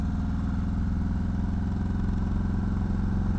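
A Harley-Davidson Softail motorcycle rumbles steadily as it cruises through town, its low, even engine thrum loud and continuous from start to finish.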